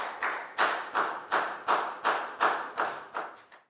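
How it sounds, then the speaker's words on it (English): A school class clapping at the end of a Year 4 social lesson, about ten evenly spaced, crisp claps in unison, close and fairly loud, with no talk. "Give yourselves all a big round of applause"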